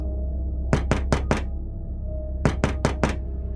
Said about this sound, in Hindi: किसी ने दरवाजा खटखटाया है।